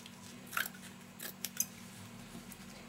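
A few crisp snips of sharp scissors cutting paper, two or three quick cuts close by, with quiet pauses between them against a low steady hum.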